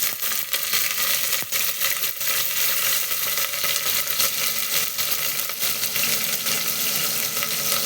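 Onions, green chilies and curry leaves fry in hot oil with a dense, continuous sizzle and crackle, close and fairly loud, with occasional sharp pops and no talking.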